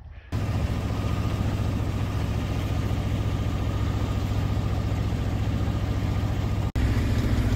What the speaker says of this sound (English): Very little wind. So engine's back on.